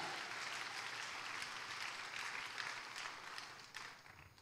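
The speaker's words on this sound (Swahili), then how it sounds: "Mpigie Yesu makofi tena." A church congregation at a Sunday service at KKKT Kariakoo claps together for Jesus, a steady wash of many hands that stays even and then slowly fades toward the end, fairly distant and quiet.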